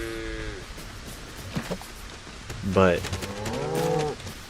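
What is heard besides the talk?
cows mooing in Lego Fortnite video game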